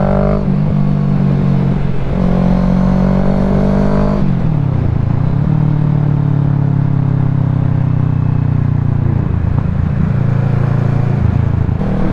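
A car drives along a road at close range, its engine droning loudly and steadily, with pitch shifts as it shifts gears around four and ten seconds, no talk over it.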